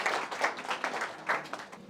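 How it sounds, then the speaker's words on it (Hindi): An audience gathered for a talk with students claps in quick, uneven bursts. The applause is faint and brief, with a few louder peaks. "जितने भी लोग यहाँ भाई लोग हैं, अपने लिए ताली बजाओ।"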